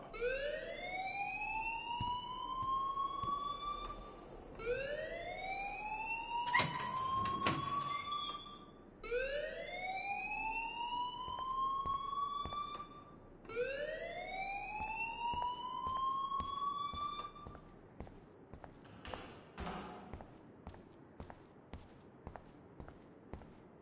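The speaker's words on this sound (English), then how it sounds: "please turn off that alarm since that's your job" A school alarm from the video game Life Is Strange rings in four long rising electronic whoops, each sweeping upward and repeating steadily, with a couple of sharp clattering bursts in between and a series of quick ticks trailing off at the end.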